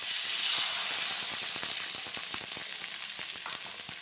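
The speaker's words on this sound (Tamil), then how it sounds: "இப்போ இது கூட 2 முட்டை உடச்சி வச்சுருக்கேன், இதை சேர்த்துக்கலாம்." Two eggs frying in a hot pan give a steady, bright sizzle and crackle throughout, close and moderately loud with no talk.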